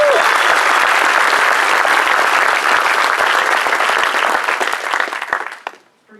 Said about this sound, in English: Round of applause for the families.